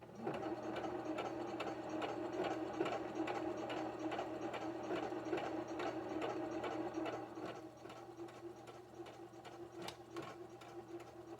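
Sewing machine stitching steadily for about eleven seconds with a fast, even mechanical clatter, run after a needle and presser foot change; no talking.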